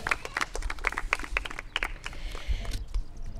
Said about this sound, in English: Please, sixth graders, give them your applause and appreciation.